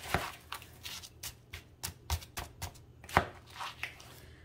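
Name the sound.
gently mixing broccoli into a hash brown casserole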